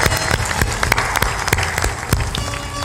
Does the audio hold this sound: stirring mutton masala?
no